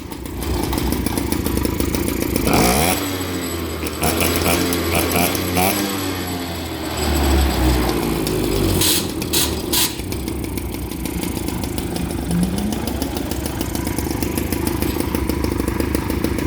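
A Motobecane Mobylette moped's small two-stroke engine putters and buzzes steadily at idle, revving briefly partway through, close by.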